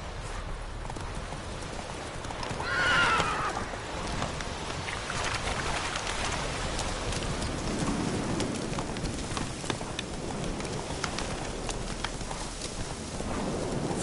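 Geralt's horse Roach gallops in The Witcher 3, a steady run of clip-clop hoofbeats layered over rain-like ambient noise throughout, with a brief brighter burst near the start.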